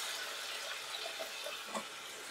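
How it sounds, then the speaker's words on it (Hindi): A cup of water poured into a cooking pan over fried potatoes and boiled eggs, a steady soft splashing stream heard continuously at low level. "अब हम डालेंगे यहाँ पे 1 कप पानी।"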